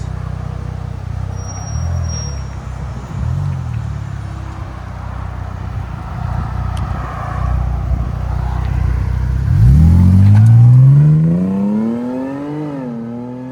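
Exhaust of a Jaguar F-Pace with a 3.0L supercharged V6, steady idle rumble that swells into a loud rev near the end, with the pitch climbing and then falling away, close and alone.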